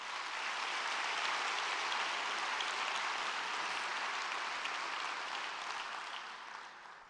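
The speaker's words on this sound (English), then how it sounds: "let's give them all a big round of applause" Sustained applause from a theater audience at a city address, dense and steady throughout before thinning slightly at the end, with no voices over it.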